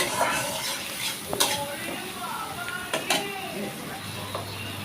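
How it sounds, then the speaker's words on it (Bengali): Pumpkin leaves with turmeric and salt stirred in a pan, a utensil scraping and clinking in repeated strokes over a soft sizzle, close and steady. "হলুদ আর লবণ অ্যাড করলাম এরপর আবার নাড়াতে থাকলাম"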